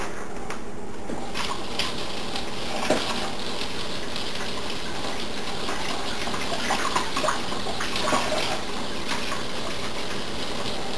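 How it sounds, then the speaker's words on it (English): A butter knife is washed under a running tap, with a steady stream of water hissing and splashing throughout and a few faint clinks along the way. "Then after you're done, wash your knife, butter knife,"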